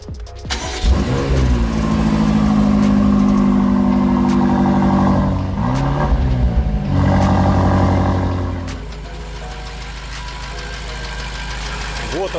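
An Audi Q7 engine fires up for its first start, recorded close to the exhaust pipe: a cranking catch, then a loud steady idle with a brief dip and rise midway before it settles lower, with people talking nearby.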